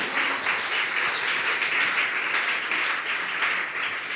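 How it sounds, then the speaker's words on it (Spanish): Steady applause from a church congregation fills the room, dense and even with no voices on top, holding at a constant level throughout. "¿Cuántos dan un aplauso a eso?"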